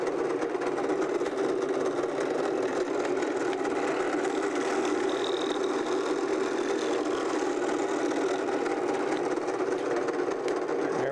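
A small saw cuts through old spruce wood with a steady, fast, even buzz at moderate loudness, continuous and alone without pauses.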